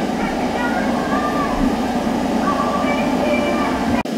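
An NJ Transit train on the Northeast Corridor in Train Simulator 2016 rolls along with a steady, continuous rumble and faint whining tones above it, before the sound cuts off abruptly near the end.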